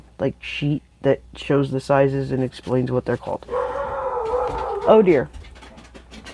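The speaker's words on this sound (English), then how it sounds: "So that's my dog Piper, who we were actually going to talk about in a minute or two, going crazy because the Amazon man is here." Pet dog Piper barks and howls excitedly at an Amazon delivery man arriving at the house, with loud yelps and a drawn-out howl breaking in around and over someone talking nearby.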